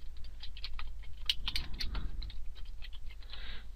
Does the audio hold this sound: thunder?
no